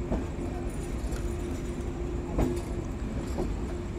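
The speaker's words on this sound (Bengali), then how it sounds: "ভেড়ামারা স্টেশনে আমাদের ট্রেন নির্ধারিত 2 মিনিটের যাত্রা বিরতি শেষ করে যাত্রা শুরু করলো" Chitra Express pulling out of Bheramara station after a two-minute halt, heard from on board as a steady low rumble of the railcar with faint wheel clacks and a couple of soft thumps.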